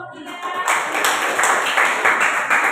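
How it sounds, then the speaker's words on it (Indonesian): A classroom group of students is applauded during a practical exam session, with steady clapping from a small audience that starts abruptly and continues at a moderate, even level with some voices mixed in. "Berikan aplaus dulu kelompok"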